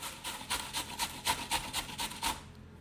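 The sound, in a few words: grating raw unpeeled carrots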